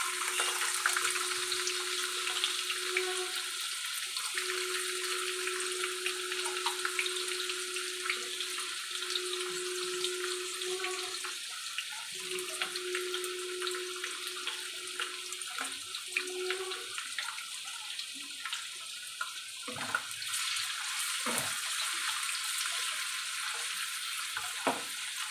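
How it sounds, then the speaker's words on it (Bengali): Carrots fry in a pan for vegetable fried rice, giving a steady, close sizzle with a low hum and occasional stirring scrapes and clinks near the end. "এবার গাজরগুলো ভেজে নেব।"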